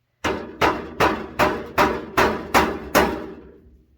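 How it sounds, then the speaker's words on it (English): Eight sharp hammer blows strike the edge of a wooden dollhouse floor at a steady rhythm, close and loud, each ringing briefly before the next, with no talking. "And I start gentle, and then I hammer a little harder."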